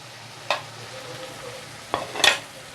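Ground cumin, coriander and red chili powder sauté in oil in a pan for paneer masala, a soft sizzle broken by three sharp spatula scrapes and stirs, the last pair close together near the end.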